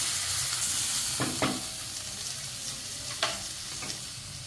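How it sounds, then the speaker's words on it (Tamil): Tomatoes with salt sautéing in a pan for chicken curry, a soft steady sizzle with a few brief spoon scrapes, quiet and close. "தக்காளி வதங்கிறதுக்கு உப்பு சேர்த்துக்கலாம் உப்பு சேர்த்துக்கலாம் தக்காளி நல்லா வதங்கட்டும்"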